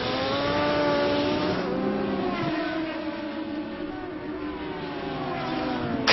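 Race cars scream past at high speed on a hilly circuit, engines whining loudly with shifting pitch as they approach and fade, the roar continuous throughout.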